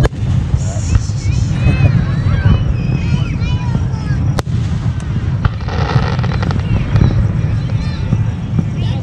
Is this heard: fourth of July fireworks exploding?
yes